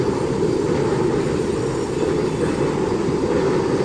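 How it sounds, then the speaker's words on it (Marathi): A Mumbai local train moving slowly during heavy monsoon rain rumbles steadily at close range, a continuous low roar of wheels and carriages without distinct clacks or voices. "लोकल सध्या धीम्या गतीनं सुरू आहे"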